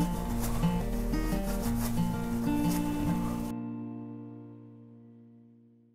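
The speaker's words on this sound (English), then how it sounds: "I just wanna get this thing halfway cleaned up with some 4-0 steel wool before we go a whole lot farther." A copper penny is scrubbed with fine 4-0 steel wool, making a steady, close scratchy rubbing for about three and a half seconds before it stops and a faint ring fades out.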